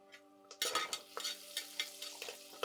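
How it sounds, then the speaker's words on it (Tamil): Brinjal and other vegetables for aviyal sautéing in oil, close crackling sizzle with rhythmic stirring strokes after a quiet start, alongside a steady low hum. "இப்போ எண்ணெயில் நல்லா வதங்கிச்சு"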